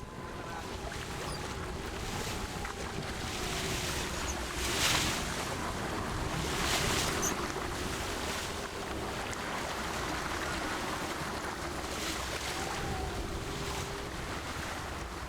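Steady rush of water and surf around a fishing boat squeezing through a rocky passage only 2 or 3 meters wide, with wind buffeting the microphone and a low engine drone throughout, no voices.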